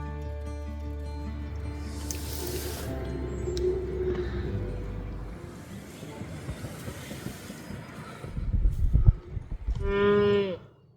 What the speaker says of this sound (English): This morning, we're waking up to a herd of cows meandering through what has to be one of the most incredible campsites in the world